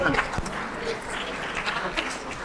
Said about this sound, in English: can I hear a round of applause for our senior citizens here?